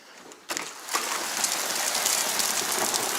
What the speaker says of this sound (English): It's like pea-sized hail.